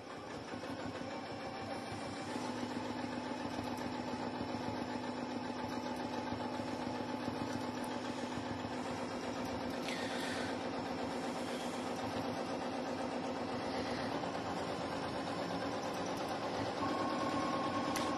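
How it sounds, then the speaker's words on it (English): Janome M7 sewing machine running fast during free motion quilting, a steady close mechanical whir and rapid stitching hum that holds constant, picking up slightly near the end, with no talking. "I gotta speed up my machine so that my stitches don't end up being too long."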